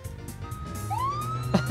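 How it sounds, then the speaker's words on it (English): A police interceptor's reversing siren in the driving game BeamNG, a single rising electronic tone that sweeps up and holds steady, loud over a low engine rumble with a brief thump near the end. "The reversing siren, that's so funny."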